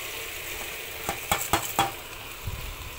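Washed rice goes into spices frying in oil for khichuri, a steady low sizzle with a few sharp scraping clinks of a spoon against the pan.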